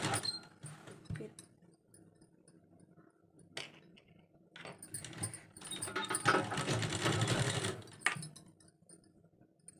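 A sewing machine stitches a kurti in short, separate bursts of mechanical whirring, the longest near the end, with quiet pauses and faint handling noises between them.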